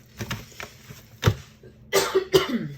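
A few short coughs and throat-clearing bursts, close and fairly loud, with quiet gaps between them.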